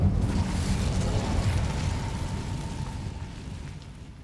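The Incendio fire spell erupts in Hogwarts Legacy with a loud whooshing burst that fades into a roaring, crackling rumble over a few seconds, heard alone.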